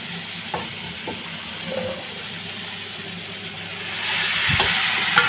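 Food being sautéed in a pan, a soft steady sizzle and hiss with a few light utensil knocks, growing somewhat louder and brighter toward the end.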